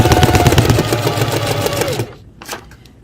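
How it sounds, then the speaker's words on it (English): A sewing machine stitches through paper in a fast, loud, even mechanical chatter for about two seconds, then stops abruptly, leaving near quiet and one short soft rustle. "Lower my needle into the paper. Lift my presser foot. Turn. Lower. And we're ready to sew."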